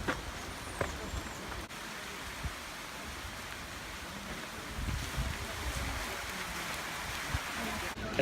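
Rain falls steadily during a hike along the train tracks toward Aguas Calientes near Machu Picchu, Peru, a soft, even hiss with occasional louder drops and brief bumps.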